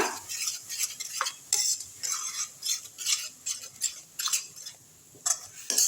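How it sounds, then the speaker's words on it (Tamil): Repeated scraping and clinking of a utensil stirring thick gooseberry pickle in oil in a pan, in irregular close strokes with brief pauses. "எல்லாத்தையுமே போட்டுருங்க நல்லா கிண்டி விட்டுருங்க"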